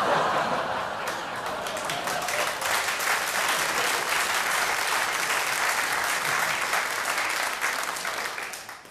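Sustained audience applause fills a comedy stand-up show, a dense even wash of clapping from a large crowd holding steady for several seconds before tapering at the end, with faint chuckles mixed in.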